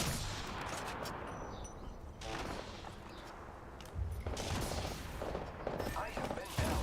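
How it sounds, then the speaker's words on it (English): Enemy gunfire in the Apex Legends battle royale on World's Edge, dense rapid shots and bursts cracking back and forth at mid distance amid busy game noise, louder volleys near the end. "The enemies are shooting at me."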